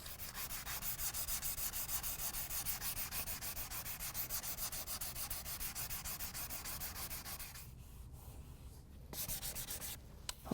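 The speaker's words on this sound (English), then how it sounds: "I think that gets our damage sanded in this area" Steady rhythmic hand sanding of damaged car body paint, a fast scratchy rubbing stroke repeated continuously and close, with a brief pause near the end.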